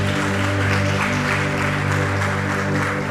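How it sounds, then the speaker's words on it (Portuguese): A congregation at a Portuguese-language church worship service claps steadily and loudly for the full stretch, with sustained instrumental music playing underneath the applause. "Você pode aplaudir ao Senhor?"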